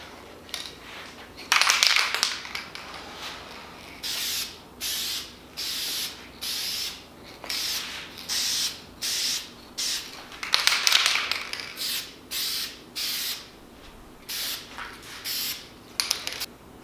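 Short hissing bursts of spray paint on plastic Silverado tow mirror covers, a light tacking coat laid on in about a dozen rhythmic passes with brief pauses, close and fairly quiet, with no talking.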